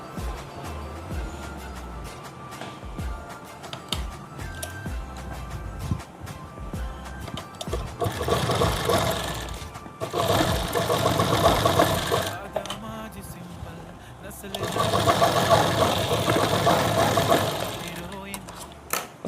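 A sewing machine stitches two salwar fabric pieces together, running in two sustained loud bursts with rhythmic mechanical chatter, separated by quieter stretches of handling noise.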